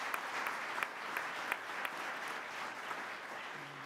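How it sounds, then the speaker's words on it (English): Faint, distant applause from a large audience at a military association forum, a soft continuous patter of many hands with a few sharper individual claps standing out. "So if we could give them a huge round of applause and say thank you."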